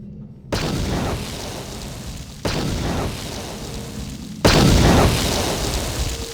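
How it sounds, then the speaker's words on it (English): A bomb detonates in Star Wars: Knights of the Old Republic, followed by two more heavy booming blasts, each a sudden loud burst that rumbles on before the next, the last the strongest. "That last explosion was pretty. That was quite the blast."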